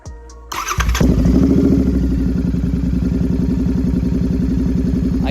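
Royal Enfield GT 650 motorcycle fitted with a performance air filter: a starter whir, then the engine catches and settles into a loud, close, steady thumping idle.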